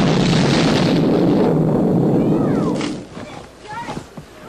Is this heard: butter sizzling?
no